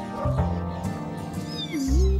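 Cats meow loudly and up close at a city neutering clinic, with a couple of drawn-out, wavering cries in quick succession.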